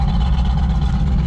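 Exhaust of a 1988 Sport Coupe fitted with SLP headers and Flowmaster mufflers, a steady deep low rumble idling close by with no other sounds.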